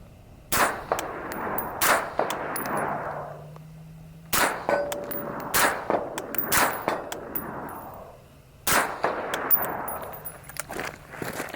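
A string of sharp, clanging shots from a suppressed 11.5-inch Geissele rifle with a SureFire SOCOM RC2 suppressor, fired into dirt in quick bursts with short pauses between groups, each crack followed by a brief ringing echo.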